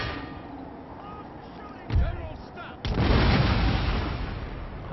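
Troops fire in the video game Empire: Total War, with a sharp shot followed about a second later by a heavier, sustained burst of gunfire that fades slowly.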